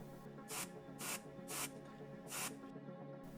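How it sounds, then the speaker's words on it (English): Spray gun applying paint during bodywork repair on a Ford GT heritage body, heard as four distinct hissing bursts of about half a second each, evenly spaced and fairly close, with quiet pauses between them. "It's interesting to start spraying right over the mask that we have on the ceiling"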